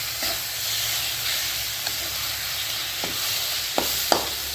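Chopped tomatoes fry in a pan for a simple chicken curry, a steady, moderate sizzle with occasional clicks and scrapes from stirring, getting sharper toward the end.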